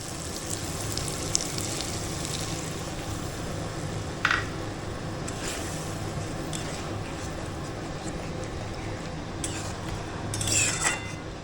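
Prawn malaikari masala sautés in a pan with a steady low sizzle throughout, broken by a few faint metallic clinks of a utensil against the pan.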